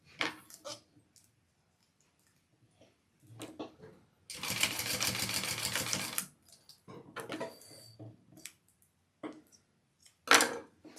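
A sewing machine bastes a D-ring onto a bag: a two-second burst of fast rattling stitching, flanked by short clicks, thumps and handling noises with quiet pauses between.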